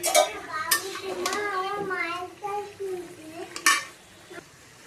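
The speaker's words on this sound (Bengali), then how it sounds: "এখন নেড়ে চেড়ে ঢেকে দিল" Tangra fish stirred in a pan, large roe-filled golsha tangra frying with light clinks and scraping close by, soft sizzle underneath, a few short bursts of movement and a voice talking over it.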